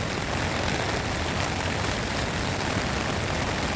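Heavy rain pours down at Muzhappilanghad Drive-in Beach Park by the sea, a loud, dense, unbroken roar of falling water that fills everything evenly from start to end.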